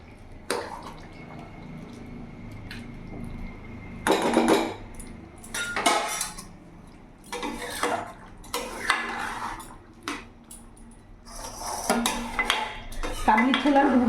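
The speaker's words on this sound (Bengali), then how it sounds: "কয়েকটা আলু এইভাবে গেলে গেলে দেবো যাতে একটু গাঢ় হয়ে যাবে" Potatoes are mashed against the side of a pot of simmering kabuli chana ghugni, giving irregular bursts of metal spoon scraping and clanking with quieter bubbling in the pauses between, close and without speech.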